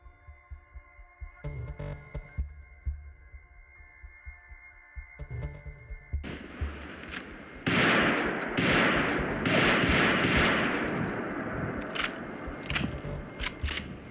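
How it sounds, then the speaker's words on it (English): Rapid semi-automatic shotgun blasts from the Varmint shotgun in Fallout 4, a quiet low passage giving way to a dense, loud string of close booming shots firing in quick succession. "the Varmint shotgun. It's a semi-automatic one and can fire quite fast too."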